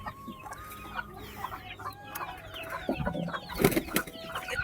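Chickens clucking softly at a pigeon and poultry coop, with scattered short calls and light rustling throughout, growing busier and louder near the end.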